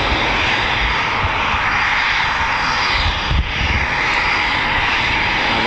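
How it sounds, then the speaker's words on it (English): A Eurofighter Typhoon FGR4 on an RAF station airfield, a loud, constant aircraft engine roar sustained for several seconds with a brief dip midway, no voices. "this Typhoon just to get towed across the runway, I think"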